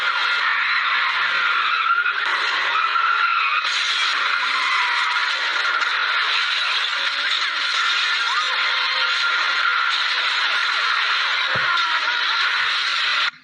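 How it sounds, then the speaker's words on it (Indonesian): Tires shriek in a long, loud, continuous skid as a car in a film chase speeds off, the squeal wavering in pitch, then cutting off abruptly at the end. "Saat polisi mengetuk pintu mobilnya, Frank langsung tancap gas."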